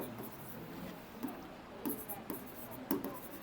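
Marker or chalk writing a quadratic formula on a board during a maths class, with soft scratchy strokes and a few brief taps, faint under low room noise.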